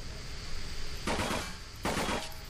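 Two sharp bursts of gunfire aimed at jars in the Nightmare House 2 video game crack out about three-quarters of a second apart over a low steady hum.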